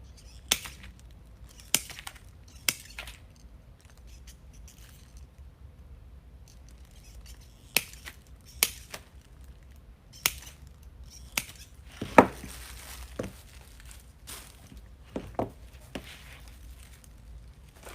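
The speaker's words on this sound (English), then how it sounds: "I'm going to go ahead and cut all these off" Clipping pieces off a Christmas grapevine wreath gives sharp, isolated snips and cracks of cut vine, spaced irregularly over near-silence, close and crisp, with a few quicker clusters.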